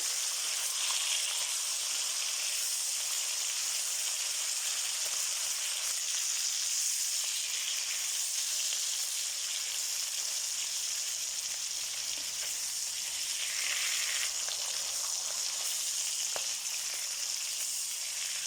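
Bacon sizzles steadily in a hot pan for a Portuguese feijão dish, a dense, continuous crackling hiss at moderate level with no talk over it.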